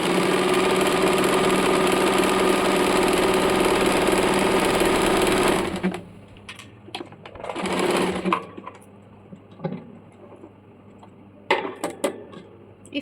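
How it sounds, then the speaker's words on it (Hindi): A sewing machine runs steadily while stitching a folded belt at a half-inch seam, a loud continuous whir for about six seconds, then stopping and giving way to a brief restart and scattered light handling noises. "बेल्ट को फोल्ड करके 1/2 इंच पे सिलाई कर लेंगे।"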